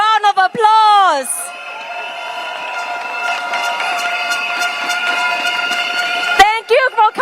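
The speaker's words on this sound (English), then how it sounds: "Please give yourself a round of applause." A large outdoor political rally crowd at a stadium during a general election campaign roars and cheers in the rain, with sustained horn-like blasts over the din. A voice is heard at the start and end.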